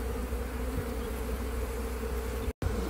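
Honey bees in a queenless hive hum in a dense, steady buzz heard up close, continuous and loud apart from a momentary dropout near the end.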